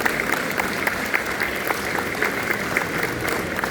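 Audience applause at a mental health day gathering, steady dense clapping from a crowd held at an even level for the whole stretch with no voices over it.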